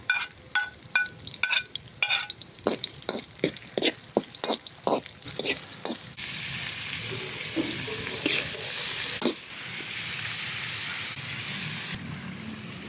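Onion and chili going into a pan for beef papaitan, opening with a series of sharp rhythmic knocks and clatters, then a sudden broad hiss of sautéing that settles into a steady sizzle.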